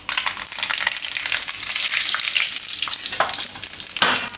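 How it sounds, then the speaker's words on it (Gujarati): Mustard seeds and cumin crackle and sizzle in hot oil for a mixed dal vadi shaak, a dense, steady spatter up close with a sharper burst near the end. "હવે તેલ આપણું ગરમ થઈ ગયું છે. તો આમાં આપણે નાખશું થોડીક રાઈ"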